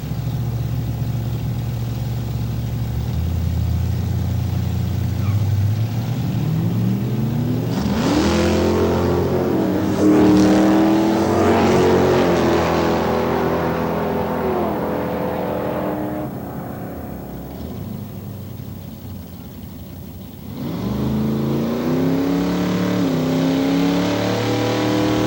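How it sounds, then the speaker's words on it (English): Big-block Mustangs, including a 1979 Mustang with a 466 cubic inch engine, roar in a drag race: engines idle and rumble, then rev hard and accelerate loudly with rising gear sweeps, dip briefly, and surge again, with no voices. "Mr. John Irwin from Patricia, Alberta, 79 Mustang, 466 cubic inch big block"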